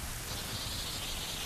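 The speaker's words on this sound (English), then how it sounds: "Oh my god, it's lightning. It's raining really hard." Heavy rain pours steadily during a thunderstorm in the video game Ocarina of Time, a dense continuous hiss at moderate level with no distinct thunderclap and no speech.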